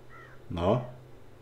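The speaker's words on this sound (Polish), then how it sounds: "Kruk nas zobaczył." A raven in the video game The Witcher 3 gives a single hoarse caw with harmonic bands, heard near and fairly loud over a steady low background hum, with no talk during it.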